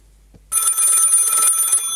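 A studio telephone rings for a call-in segment, starting abruptly after a near-silent moment and holding a bright, continuous electronic trill, loud and close.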